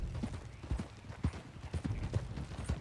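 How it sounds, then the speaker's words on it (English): Quiet, muffled hoofbeats of a horse in the video game Red Dead Redemption 2 thud in a rolling galloping rhythm, soft and somewhat distant, with no voices over them. "Okay, get on your horse. Follow me."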